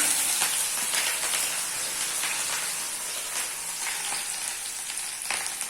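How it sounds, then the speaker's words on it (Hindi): Garlic and onion paste fries in a pan with an even, moderate sizzling hiss and faint intermittent crackles, close and steady, with no talking. "अभी लहसुन प्याज का पेस्ट अच्छे से पक रहा है।"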